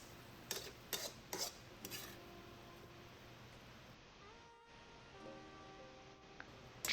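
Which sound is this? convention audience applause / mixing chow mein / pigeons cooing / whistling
mixing chow mein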